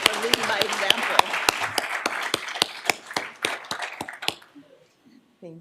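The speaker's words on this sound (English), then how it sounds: "Please just join me in giving Vickie and her team one more round of applause." Audience applause after an organizational event, clapping densely and steadily before thinning out and stopping, with a few faint sounds afterward.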